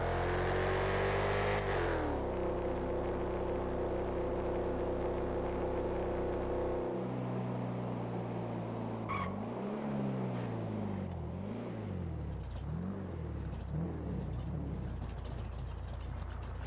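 A car engine in a video game, held at a steady high drone, then shifting down through a series of rising and falling revs and gear changes, loud and continuous with no one speaking.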